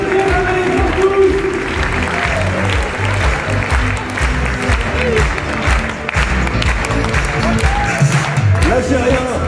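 Loud, sustained applause and cheering from a large crowd at a Manif pour tous street demonstration, dense clapping and shouts filling the whole stretch without a break.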